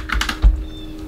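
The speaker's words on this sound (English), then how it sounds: "I'm not done typing." Fingers tap a computer keyboard up close in a short burst of quick clicks, then a single soft thump, with no talk.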